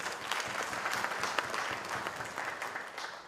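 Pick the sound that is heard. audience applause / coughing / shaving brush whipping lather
audience applause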